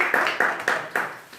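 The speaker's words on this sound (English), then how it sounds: "Come on, clap." An audience applauds in a few quick, separate bursts of claps at a Toastmasters-style table topics meeting, close and moderately loud, with no talking over it.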